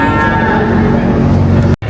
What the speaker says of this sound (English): So I think there's about 400 cows in the shed